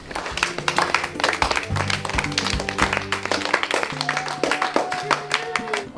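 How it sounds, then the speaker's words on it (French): A group of schoolchildren claps for themselves in a classroom, a quick, uneven patter of many hands that runs throughout, with some murmuring voices in the background. "Je pense que vous pouvez vous applaudir."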